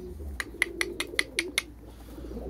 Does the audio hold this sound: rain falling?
no